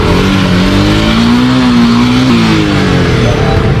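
A delivery rider's motorcycle engine running at close range, a loud steady idle with a slight rise and fall in pitch, heard alone without talk.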